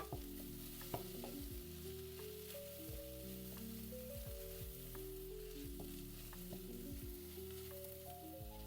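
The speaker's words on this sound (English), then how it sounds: "Stir for about a minute." Mushrooms stir-fry in a pan for ramen, a steady close sizzle with repeated scraping knocks of a utensil stirring throughout.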